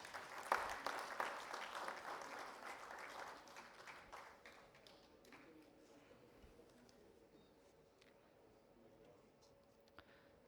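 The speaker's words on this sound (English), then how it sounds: "Can we hear a round of applause for them?" An audience at the CIDC Vishwakarma Awards 2024 ceremony applauds. Clapping is strongest at the start and thins out over about ten seconds, fairly quiet and distant, with faint voices underneath.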